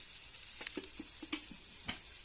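Chopped onion sautéed in oil in a pan for village-style mushroom curry gives a faint, steady sizzle with a few soft scraping stirs.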